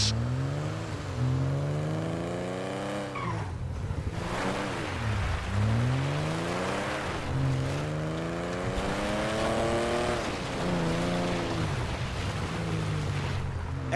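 A car in Grand Theft Auto V drives along, its engine rising and falling through repeated acceleration sweeps and gear changes, steady and fairly loud with a washing background hiss.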